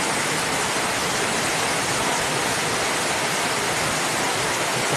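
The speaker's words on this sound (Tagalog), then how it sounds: "medyo malakas ang ulan yun" Heavy rain pours down in a steady, dense hiss that fills the whole clip, loud and close, with no voices over it.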